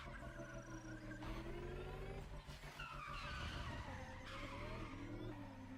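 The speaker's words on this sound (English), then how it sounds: "this has the best sound of all the electric cars" An electric car in the racing game The Crew Motorfest roars at speed with a steady motor whine, tires squealing through turns and music layered underneath, loud and continuous throughout.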